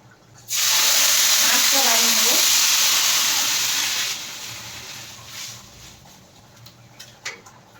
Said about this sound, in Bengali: আড়াই বাটি চাল নিয়েছিলাম পাঁচ বাটি জল দেব